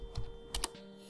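A few crisp keystrokes on a computer keyboard as a terminal command is entered on Ubuntu: two or three clustered clicks, close and fairly quiet over a steady low hum, with no talking.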